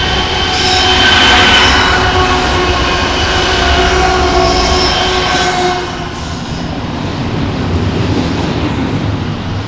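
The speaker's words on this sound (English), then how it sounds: "a BNSF Intermodal rolls west before the sun comes up over the mountains" A BNSF intermodal freight train rolls west past the trackside on the Seligman subdivision near Kingman, Arizona, loud and steady with heavy rumble, wheel squeal and a faint clickety-clack, easing slightly after the loudest stretch.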